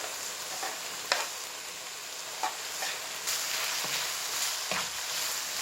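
Kofta sizzling on a bed of onions in a pan, a steady broadband fry hiss with occasional stirring clicks and pops, close and moderately loud with no talking.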